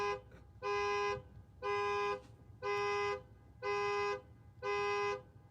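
A car alarm in a parking lot honks in five evenly spaced, one-second horn blasts, loud and steady, with no talking.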